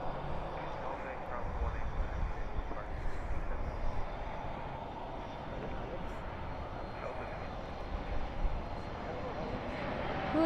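An Asiana Cargo Boeing 747 at Dallas/Fort Worth airport at night gives a steady, moderately distant jet rumble that holds evenly throughout, with a low murmur of voices in the background.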